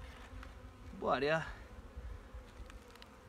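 Honeybees hum steadily in a hive opened for a February late-winter inspection, a low continuous drone close by, interrupted by a brief spoken phrase.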